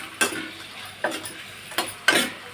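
Whole cloves, cardamom and cinnamon sticks dropped into hot oil in a pan for a cashew chicken curry, giving four short sizzling bursts spaced about a second apart, each fading quickly, with no talking.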